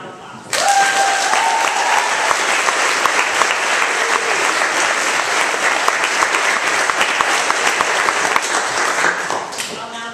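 Sustained applause from an audience at a school student recognition day ceremony, honouring a first-year girls' school cross-country team; dense, steady clapping begins abruptly and continues evenly throughout with a faint crowd murmur.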